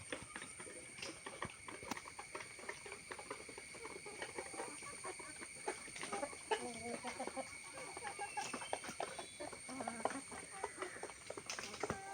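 Chickens cluck and call inside a two-tiered backyard coop, a few short rising calls standing out over a steady background hum, moderately close with no talking.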